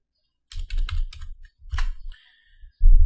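A file name is typed on a computer keyboard in quick, close bursts of clicking keystrokes, with a brief pause before a final heavier key press.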